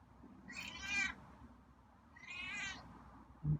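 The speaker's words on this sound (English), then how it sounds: "Wow, you're meowy." A feral cat at a door gives two distinct, drawn-out meows about a second apart, close and clear against a quiet background, followed by a brief low thump.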